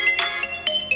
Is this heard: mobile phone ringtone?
yes